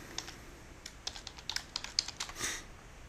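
Someone types code on a computer keyboard, producing a dozen or so light, irregular key clicks close by with short pauses between them and no talk.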